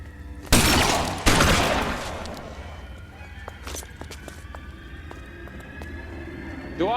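Gunfire in the video game L.A. Noire: two loud, sharp blasts close together near the start, then scattered fainter cracks and clatter over a steady background of game ambience, with a voice briefly present.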